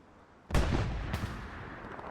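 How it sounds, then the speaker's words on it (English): Heavy gunfire from MG42 machine guns in a snowy multiplayer video game battle, a loud close burst starting sharply with a second crack about half a second later, then a dense rumbling tail of shots. "Now we have Lukewarm Pickle and Tennessee both lining their MG42s up. Just putting up a wall of bullets here"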